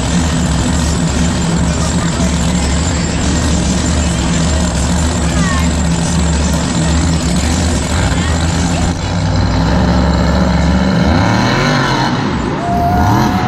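The Bounty Hunter monster truck roars around the Monster Jam arena at MetLife Stadium, its engine a steady loud rumble under continuous commentary and crowd noise, with a revving surge near the end.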